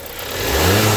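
A car's engine revs up quickly and loudly during a throttle check, the drone swelling from a rough idle to a sustained high-throttle roar within about a second.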